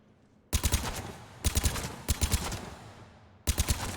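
Short bursts of gunfire from a triple-shot burst weapon at a target range in Mass Effect 3, four sharp three-round volleys spaced about a second apart, loud and close with a lingering tail between bursts.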